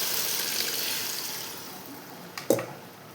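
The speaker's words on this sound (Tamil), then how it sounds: "தேவையான அளவு தண்ணி ஊற்றிக்கலாம்" Water poured into a cooking pot holding eggplant and garam masala for dhalcha, a steady rushing splash that fades, ending with a brief clunk.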